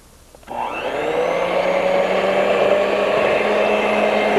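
An electric hand mixer whirs steadily, close and loud, as it beats cookie batter made with melted margarine, starting at about half a second and running continuously to the end.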